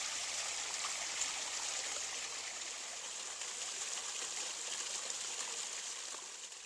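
Water in a backyard garden water feature trickles and splashes steadily in a continuous bright wash, close and unbroken, with no voices over it.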